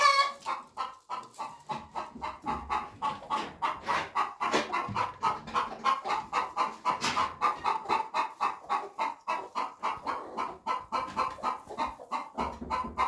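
Broody hens cluck continuously inside a barn, a dense, steady chorus of close, overlapping clucks and low murmurs throughout with no talk.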